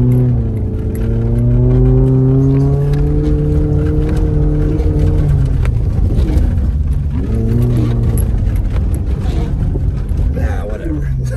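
A car engine revs hard and steadily while the vehicle sits stuck in heavy falling snow in Big Bear, California, its pitch climbing and sagging in long strained surges, close and loud, with no talking.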